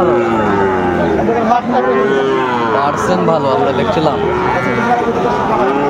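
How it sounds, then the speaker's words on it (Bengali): A Sahiwal bull calf moos repeatedly at a busy cattle market in Cumilla, its long drawn calls rising over a dense crowd of other cattle and people talking nearby. "শাহিওয়ালের বাচ্চা"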